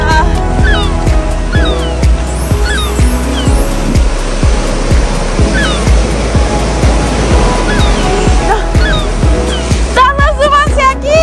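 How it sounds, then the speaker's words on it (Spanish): Sea waves wash onto a private beach in a steady, loud roar of surf that fills the whole stretch, with faint bird-like chirps and rustling over it. "Pues familia, hemos llegado al mar. Esta es nuestra playa privada."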